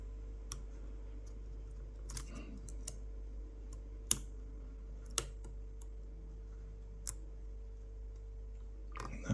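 Faint, sparse clicks from pins setting inside a lock being picked at an awkward angle, about six or seven small sharp ticks spread across a quiet, steady background hum.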